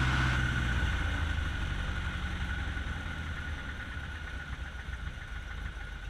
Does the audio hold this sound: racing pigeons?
no